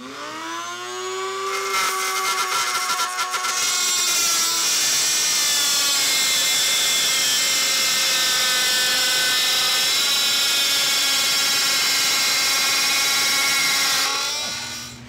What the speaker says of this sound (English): that Dremel was really loud